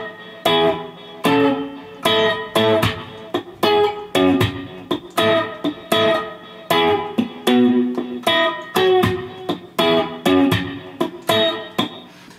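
An electric guitar plays a slow slap-and-pop passage, with sharp percussive chord hits repeating at an even, deliberate pace, close and clean, with no talking.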